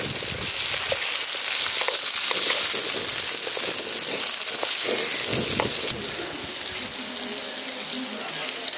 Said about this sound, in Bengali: এখানে আলুগুলো হালকা করে ভেজে নিয়েছি।